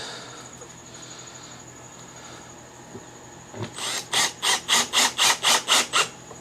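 Screws being driven into a particle board drawer of an IKEA Alex unit, heard as a series of about eight rhythmic, evenly spaced rasping bursts that grow louder, following a quieter stretch of faint handling noise.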